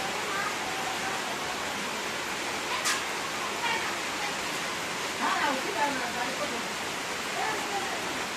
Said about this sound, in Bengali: এই বৃষ্টি কবে যে থামবো আল্লাহ মাবুদ ভালো জানে